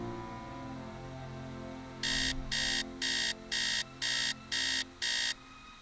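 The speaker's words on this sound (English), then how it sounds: "I'm about to set an alarm for 12 p.m. just so I can finally meet Lewis" An alarm clock rings inside a video game, its beeps arriving in seven even bursts after a couple of seconds of steady background game music.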